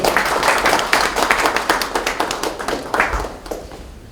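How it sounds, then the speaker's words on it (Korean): Applause from an audience at a Democratic Party national economic advisory meeting, a dense run of clapping hands lasting several seconds and fading slightly toward the end, with no voices over it. "그럼 박수 보내십시오"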